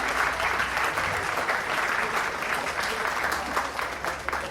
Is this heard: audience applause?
yes